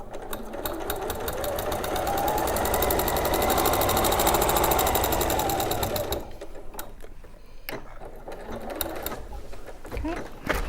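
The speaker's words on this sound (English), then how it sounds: "I'm just going to stitch across the bottom as well." Sewing machine stitching across the bottom edge of fabric, a loud continuous rapid mechanical whir for about six seconds that then stops, followed by a few clicks and handling sounds.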